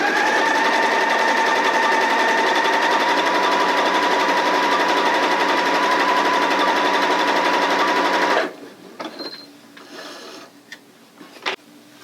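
A Janome sewing machine stitches a fabric hem for a circle skirt, a steady, close, continuous whir that runs for about eight seconds and then stops, followed by a few quiet handling sounds.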